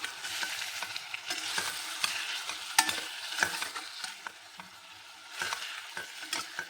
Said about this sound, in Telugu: కొంచెం మంచిగా నూనెలో ఫ్రై కావాలి.